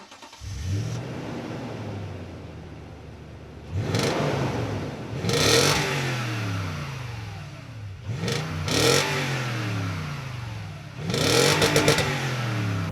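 A 2010 Toyota Tundra 4.6 V8 truck engine revs hard in several bursts, climbing to a high roar near 6,000 RPM and dropping back to idle between pulls.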